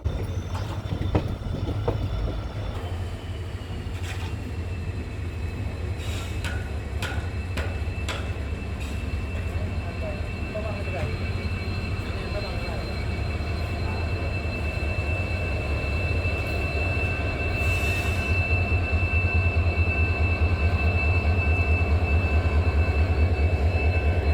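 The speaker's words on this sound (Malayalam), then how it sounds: "കൃത്യം മൂന്നേ മുക്കാലിന് തന്നെ ട്രെയിൻ നിലമ്പൂരിൽ എത്തിച്ചേർന്നു" A passenger train pulls into Nilambur Road station with a continuous low rumble of rolling wagons, intermittent metallic squeals and clanks, growing slightly louder toward the end, with no voices.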